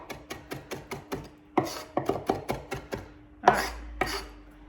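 A knife chops fresh parsley and oregano on a cutting board in quick, steady strokes, pausing briefly and then resuming a faster burst of sharp, close taps with no talking.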